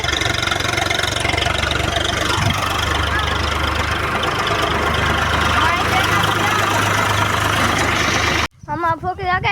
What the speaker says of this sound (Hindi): हमारे मिनी ट्रैक्टर